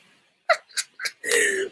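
A single sneeze bursts out amid casual chatter, with a short breathy sound and voices around it during a relaxed catch-up conversation.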